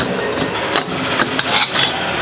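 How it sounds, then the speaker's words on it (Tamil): A machine blending coffee powder with chicory powder gives a continuous grinding, rattling whir with repeated sharp knocks and clatters, close by and steady. "இதில் வந்து காஃபி பவுடரும் சிக்கரியும் பிளெண்ட் ஆகிட்டு இருக்குங்க"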